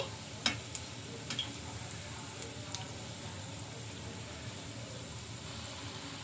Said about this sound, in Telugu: ఇంకా వీటిని అటు ఇటు తిప్పుకుంటూ మంచి కలర్ వచ్చే వరకు అయితే ఫ్రై చేసుకోవాలి.